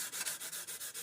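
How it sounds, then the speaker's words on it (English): A model is carefully hand-sanded with a soft sanding sponge, giving a quiet, rhythmic scratchy rubbing with about eight evenly spaced strokes close by. "sanding that down"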